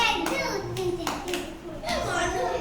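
Children in a classroom clap their hands together in a few quick bursts, mixed with kids' voices and a teacher speaking over them.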